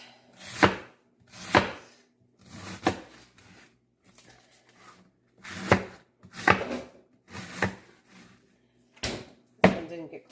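Cabbage being chopped on a board to fit a food processor for sauerkraut: about nine crisp, close knife strikes, some single and some in quick pairs, with short pauses between.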